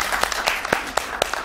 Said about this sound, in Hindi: आपके लिए तालियां